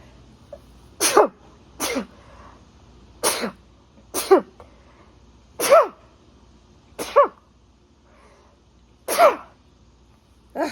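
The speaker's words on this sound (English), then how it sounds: "I sneeze like a cat." Seven quick, sharp sneezes in a row, each a short explosive burst with brief pauses between, close and fairly loud with no talking.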